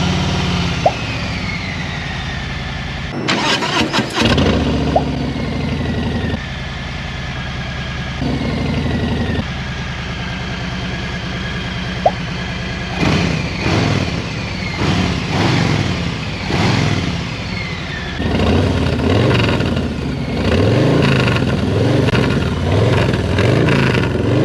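A motorcycle with stock exhaust idles with a steady, buzzy putter, then catches and revs up in several short bursts, loud and close, with no talking.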